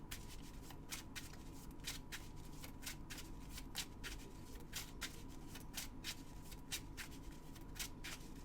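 A deck of playing cards is shuffled over and over during an online tournament game, giving a steady run of crisp riffling bursts at close range with no talking.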